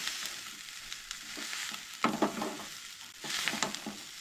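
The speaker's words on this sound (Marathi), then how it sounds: "सोय न्हय मातशी परतून घेवंक जाय" Grated coconut is sautéed and stirred in a pan for a Goan chicken curry, giving a soft continuous sizzle with scraping stir strokes and a few louder bursts, with no voices.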